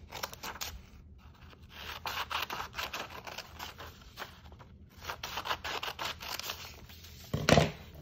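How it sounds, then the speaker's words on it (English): Scissors snip through paper along dotted lines in a classroom craft activity, a faint, close series of uneven cutting and rustling scrapes with a brief louder click near the end. "So once again, cut on the dotted lines."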